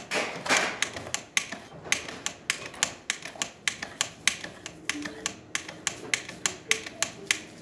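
Ceado coffee grinder dosing out coarse ground coffee, sounding as a rapid, even series of sharp mechanical clacks from the doser lever, close and crisp, repeating steadily throughout.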